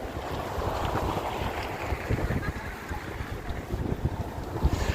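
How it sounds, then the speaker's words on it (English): Strong wind buffets the microphone on a Stockholm waterfront, a constant roaring rumble with gusty low-end thumps and a wash of water in the background. "It's really windy here."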